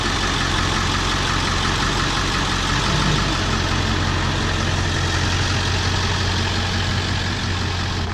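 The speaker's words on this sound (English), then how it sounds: "So my little brother's gonna back the truck out." A Cummins diesel truck engine idles steadily nearby with a low, even rumble as the truck starts to back out, holding the same level throughout with no voices.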